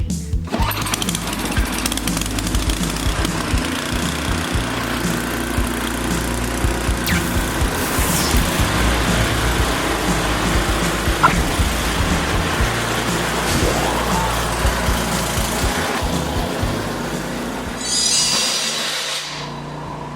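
A snowblower engine drones loud and steady in a workshop for about twenty seconds, with bangs and rattles over its continuous rumble and a brief hiss of higher noise near the end; no one speaks.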